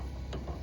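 A single brief burst of ratchet wrench clicks, close and crisp, while working on the headlight assembly of a 2013 Silverado truck.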